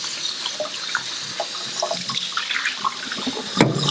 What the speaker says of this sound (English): I'm just trying to rinse off the starch from the rice